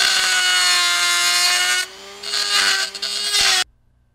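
A rotary grinding tool works on protruding pieces inside a homemade lightsaber hilt, a loud steady whine that dips briefly, surges back and cuts off abruptly near the end.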